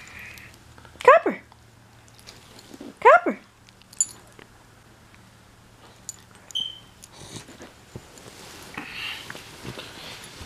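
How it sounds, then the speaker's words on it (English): A dog gives two sharp barks or yelps early on, then quieter squeaks and whimpers follow, close by and sharing the room with a woman's brief speech. "Crazy dog."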